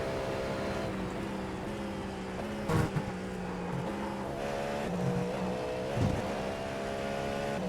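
Cadillac GTP race car in iRacing at Daytona Speedway, a steady engine drone heard through a chicane, with brief louder bursts as gears shift, fairly close and without talk.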